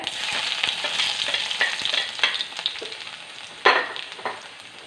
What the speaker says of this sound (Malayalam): വെളുത്തുള്ളി ഇടുവാണ് ഇതിലോട്ടെ